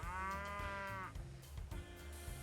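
Cattle moo in the video game Railway Empire 2: one long, loud, tonal moo followed by a second, lower bellow, close and clear with no talk.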